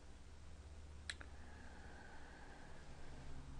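A single quiet computer mouse click, a crisp double tick, sounds once against a faint steady background hiss, with no talking.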